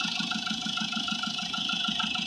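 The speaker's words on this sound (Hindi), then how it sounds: "इसमें कई सारी आवाज़ें भी हैं और बैक कंप्रेशर भी दिखाती है कार" A Mitsubishi Pajero 2.8 diesel engine with back-compression trouble idles steadily and close by, with a rapid, even knocking pulse running through a continuous mechanical drone and no speech.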